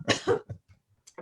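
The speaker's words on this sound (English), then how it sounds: "Sorry, I'm having like a coughing." An adult gives two quick harsh coughs in a row, close to the microphone, trailing off into smaller throat sounds and a brief breath.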